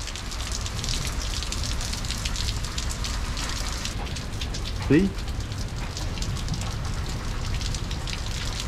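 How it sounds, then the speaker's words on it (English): Rain falls steadily on a surface as a continuous hiss throughout, with a brief spoken word partway through. "Rain."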